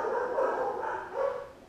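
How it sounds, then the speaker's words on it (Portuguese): Several dogs bark at some distance from a workshop where a car audio cable is being soldered, with a run of muffled, overlapping barks rising and falling in two bursts. "Cachorrada tá maluca hoje."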